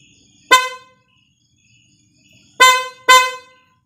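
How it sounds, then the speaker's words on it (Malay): An aftermarket PIAA horn fitted to a Perodua Axia blares in three close, loud blasts: one short honk, a pause of about two seconds, then two quick honks back to back, each bright and brassy. "jadi itu adalah bunyi horn"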